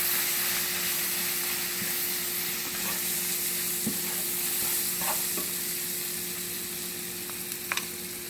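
Flour being stirred into browned meat in a pan for gravy: a steady sizzle and frying hiss with soft scraping stir strokes and a few small clinks near the end, close and fairly quiet throughout.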